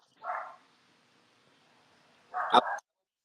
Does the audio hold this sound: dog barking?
yes